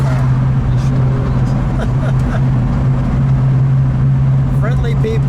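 A 1969 Mercury Cyclone Spoiler 351 muscle car cruising on a two-lane mountain road gives a loud, steady low engine drone heard from inside the car, with a brief voice near the end.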